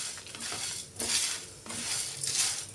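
Dried chillies and spices roasting in a few drops of oil in a pan over low flame give soft scraping and stirring rustles in short bursts, faint and close.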